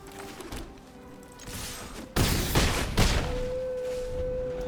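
A Barrage spell resolving in the MTG Arena card game, with heavy crashing impact bursts that land over a steady hum and a soft sustained tone.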